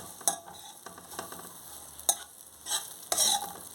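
Onion, tomato and chili frying in a little oil, a soft close sizzle with scattered stirring scrapes and a few louder clatters of the spoon against the pan, no voices.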